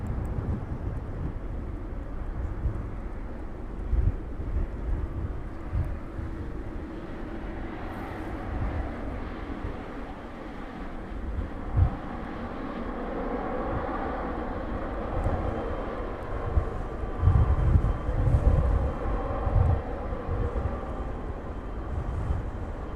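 An aircraft taxiing at East Midlands Airport gives off a steady low engine rumble that holds throughout, moderately loud with slight swells and no talking.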